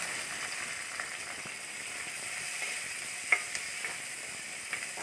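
Sliced onion frying in a hot pan for prawn curry, a continuous even sizzle with a few sharp clicks from stirring.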